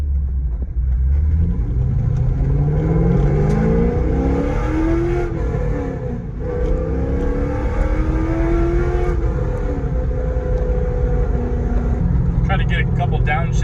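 A C5 Corvette fitted with long tube headers accelerates hard from a stop, its V8 exhaust climbing through rising revs, dipping at a shift and pulling up again, loud and close.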